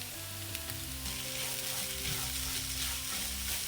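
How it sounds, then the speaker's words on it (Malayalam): Onion and masala sauté in oil for a Kerala black chickpea curry, a dense, steady sizzle and crackle that stays loud and close, with a low hum beneath and no speech. "മസാല ചേർത്തിട്ട് ഒരു 5 മിനിറ്റോളം വഴറ്റി"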